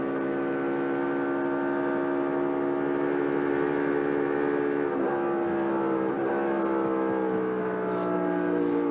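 A 1996 Miller 500 NASCAR stock car engine drones loudly and steadily down the main straightaway, its pitch dropping sharply around the gear shift before holding a sustained roar, with no voices.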